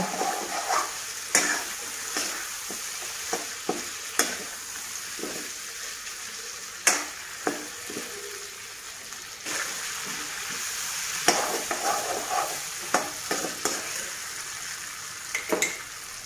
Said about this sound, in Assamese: এনেকৈ 2 মিনিটমান লৰাব লাগিব